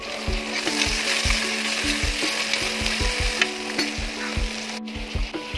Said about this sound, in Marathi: तेल कडकडीत तापलं आहे। आपण कांदा टाकून घेऊया।